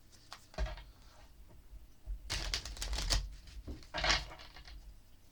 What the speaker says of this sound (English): Shuffle the cards, and then we're going to cut them